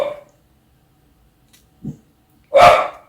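A big pet dog barks indoors to warn of people outside: a sharp bark at the start, a soft low woof midway, then a loud, full bark near the end, separated by silence.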